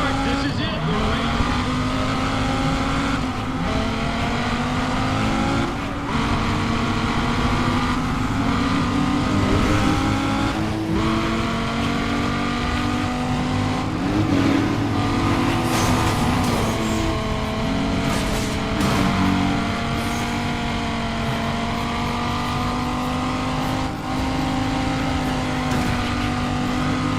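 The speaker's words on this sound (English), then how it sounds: "Listen to those engines. This is it. There's the start." Many race car engines in a racing video game roar and rev together at the start of a race, a loud, dense, continuous drone with rising pitch sweeps, while a voice talks over it.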